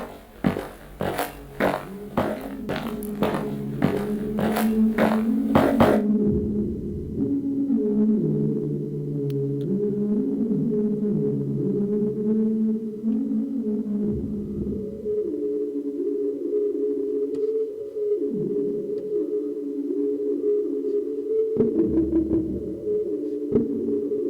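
A cinematic hip hop track made for a nightclub scene plays: punchy beats for the first few seconds, then deep sustained bass tones and slow melodic swells continue alone.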